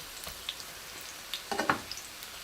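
Tofu frying in a pan, a faint steady sizzle with a few brief crackles and a short scrape of stirring near the end.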